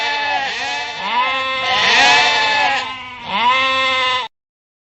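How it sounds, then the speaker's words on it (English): A sheep bleats loudly and close up in a continuous series of wavering calls for about four seconds, then stops abruptly. "Sheep makes the sound."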